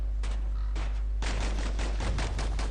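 Two slinger pistols fire in the Bastion video game: a quick run of sharp shots rings out, sparse at first and then a dense, rapid volley over a steady low hum, moderately loud.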